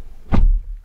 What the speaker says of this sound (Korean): 문을 닫겠습니다.